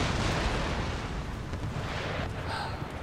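Howitzer artillery fire in the Empire: Total War battle, a dense rumbling barrage of booms and blasts that fills the whole stretch at steady loudness, with a few sharper high cracks near the end.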